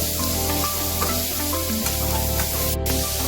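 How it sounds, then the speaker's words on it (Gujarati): Green onions and chillies are stirred in a sizzling pan, and a steady loud frying hiss runs throughout with no talking, while a faint musical tone plays underneath. "આપણે લીલી ડુંગળી, મરચા, લીલી ડુંગળી, તે બધું. આપણે પાછું મિક્સ કરી લેવાનું છે"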